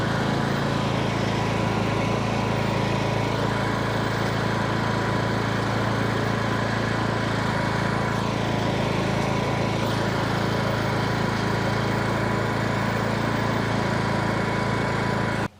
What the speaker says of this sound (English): I'm going to try and film backwards as I drive the lawnmower forwards